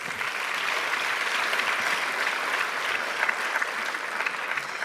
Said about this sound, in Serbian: Jedan veliki aplauz za vas